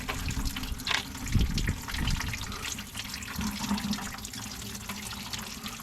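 A steady gush of water mixed with oil pours out of an excavator being drained, a continuous splashing, trickling flow with a few heavier surges, close and fairly loud.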